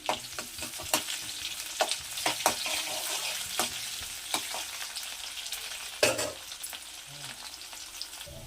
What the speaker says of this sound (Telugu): ఆయిల్ హీట్ చేసి దానిలో ఆనియన్, కొద్దిగా జీలకర్ర, ఆవాలు వేసి కలుపుదామండి.